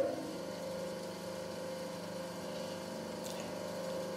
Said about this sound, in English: Start the grinder,